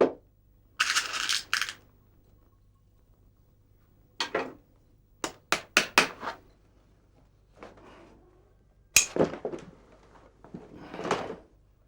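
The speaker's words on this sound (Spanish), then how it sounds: "utiliza la tenaza de montar, que le permite la doble función de tensar el cuero y martillar los clavos." A veteran shoemaker hand-making leather boots drives nails into the leather with lasting pincers, producing sharp close knocks in irregular clusters separated by quiet pauses.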